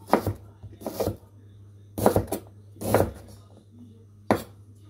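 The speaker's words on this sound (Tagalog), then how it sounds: "Maghiwa tayo ng ating tawag dito, luya." A knife chops ginger with the skin on against a cutting board, giving about five or six sharp, close knocks at an uneven pace over a faint low hum.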